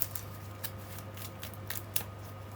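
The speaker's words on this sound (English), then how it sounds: "that's the deck shuffled up and cut and ready to go" A deck of cards for a board game is shuffled and cut, giving faint, soft riffles and taps at irregular intervals over a quiet, humming room background.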